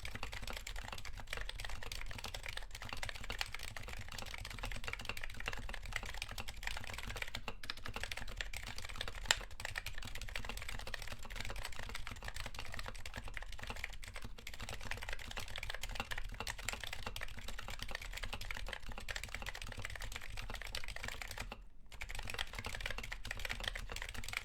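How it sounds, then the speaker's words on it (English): Typing on a Gehirn60 mechanical keyboard runs as a continuous rapid clatter of close key presses for the whole stretch, with brief pauses now and then and no talking. "here's a sound test of the EC. This is the Keycap in the Gehirn60."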